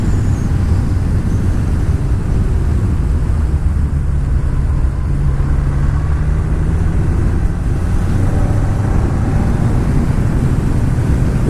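A BMW motorcycle cruises along with a constant loud rumble of engine and wind noise, steady and unbroken, with no talk heard.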